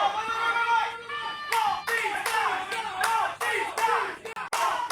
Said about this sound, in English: I hear half Axel Crowe chants, and I hear the other half chanting for Chris Slade.